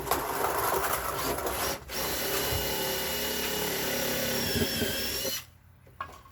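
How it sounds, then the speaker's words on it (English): A power drill whines loudly and steadily as it bores a hole through a plastic rain barrel, pausing briefly once before stopping. "I'm going to drill a hole, I'm going to jigsaw this out"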